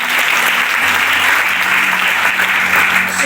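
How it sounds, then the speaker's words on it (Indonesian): A church congregation at an evangelistic revival service breaks into loud, sustained applause, a dense, even clatter of many hands clapping that fills the full few seconds. "Kita beri tepuk tangan buat Tuhan."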